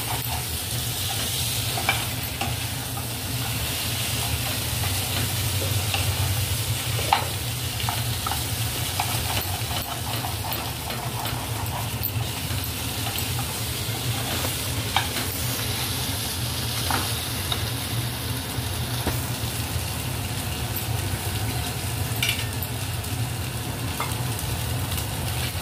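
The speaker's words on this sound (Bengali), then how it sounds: "এবার মটরশুঁটি দিয়ে আলু শালগমগুলো ভালো করে নাড়াচাড়া করে নেওয়া হচ্ছে।" Potatoes, turnips and peas sizzle steadily in a pan while a utensil stirs them, with a constant close frying hiss and irregular scraping and tapping throughout.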